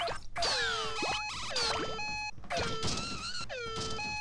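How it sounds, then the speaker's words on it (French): Game sounds from Katamari Damacy Reroll: bright chirps, swoops and sustained electronic tones, with repeated short beeping runs near the start, loud and continuous throughout. "c'est la chose la plus agaçante dans Katamari."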